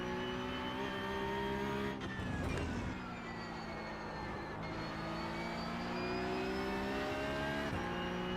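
Porsche Cup race car engine in the iRacing sim at Donington Park, a steady high-pitched whine held near full revs with brief gear-shift dips, loud and continuous without speech.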